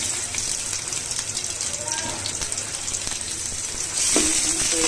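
Spice paste frying in hot oil in a wok before greens are added, a continuous sizzle with a brief louder hiss near the end, heard under a quiet voice.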